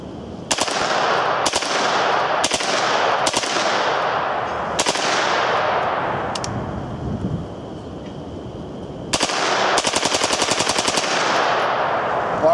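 HK UMP-9 submachine gun fired in semi-auto, a series of loud, sharp shots with long echoing tails, then a fast rhythmic string of rapid shots at close range.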